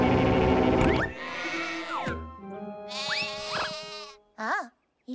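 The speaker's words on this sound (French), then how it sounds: "Et les moutons, écoutez." Sheep bleat in a cartoon farm scene, several wavering, tremulous calls in quick succession, close and fairly loud, with a short final bleat after a brief pause and no talking over them.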